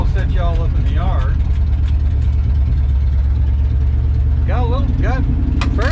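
A 1970 Ford F250 pickup's engine runs loud and close with a steady low rumble throughout, while someone talks over it in short bursts.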